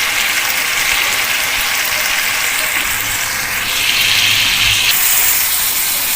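Cut green beans dropped into frying meat and masala for a phaliyan gosht curry, a loud, steady sizzle and hiss that swells slightly midway, continuous with no talk.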